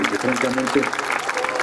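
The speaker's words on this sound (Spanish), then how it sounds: "Les pido un aplauso nuevamente para Alejandro" Audience applause at a forum on the sale of Pemex, a steady patter of clapping that runs through the clip beneath someone speaking Spanish over the sound system.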